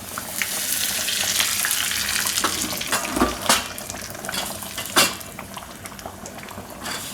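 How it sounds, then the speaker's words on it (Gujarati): Whole peppercorns, dried chillies and curry leaves sizzle in hot oil for a dal tempering, a steady crackling fry with several sharper pops and spits standing out, close and fairly loud, with no talk. "અને આખા મરી ભેગ. મરચાં અને લીમડો."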